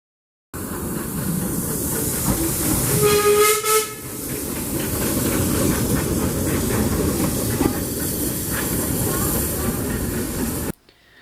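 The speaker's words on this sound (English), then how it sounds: "Seeing the steam from this tank engine is very atmospheric." A loud, continuous hiss of steam from a steam tank engine on the Peak Rail heritage line fills the scene, with a brief whistle-like tone partway through and rumbling machinery beneath.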